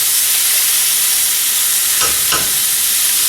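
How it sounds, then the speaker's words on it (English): Barbecue pulled pork dropped into a hot frying pan sizzles loudly and steadily, with two brief bursts of stirring or scraping near the end. "I'm going to put just a little bit of it in a hot frying pan."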